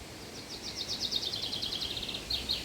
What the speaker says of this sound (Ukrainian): чуєте, якась пташечка співає.